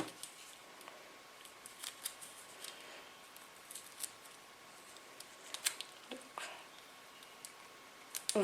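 Scissors snip the excess braided trim on a velvet Moroccan caftan in a few faint, scattered cuts, quiet and close, with light rustling between them.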